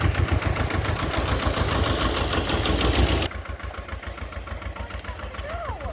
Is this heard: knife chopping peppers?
no